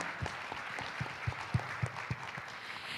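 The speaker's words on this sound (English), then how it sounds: "Let us once again give a big round of applause for them." A conference audience at an ASEAN event on plastic pollution applauds its speakers. The clapping is fairly faint and roomy, a soft wash with a few sharper individual claps standing out along the way.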